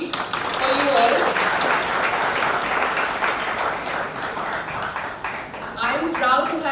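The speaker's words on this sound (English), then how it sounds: "a big round of applause for all of you to be present here for this amazing initiative" An audience at a product launch event applauds in a sustained wash of clapping, loud and close throughout, with a voice speaking over it.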